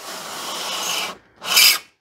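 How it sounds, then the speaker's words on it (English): Polystyrene packing foam squeaks and rubs while a box of old tools and shed items is unboxed, giving a long scraping squeal, a short break, then a second louder burst, close up with no speech. "pardon the terrible polystyrene squeaks"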